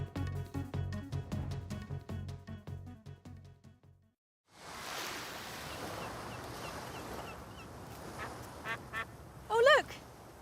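Duck quacking in a bingo advert, a short cluster of loud nasal quacks near the end following music and a brief gap, set over a broad wash of background noise resembling surf or wind.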